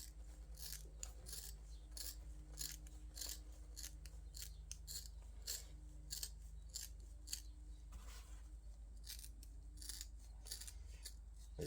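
Scissors snip repeatedly through model railway hedge material being trimmed to height, a steady run of quick, crisp cuts at close range with no talking.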